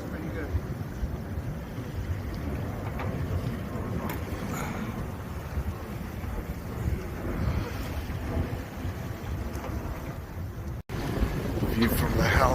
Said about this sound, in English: Oh, we got some strong wind just when I said that.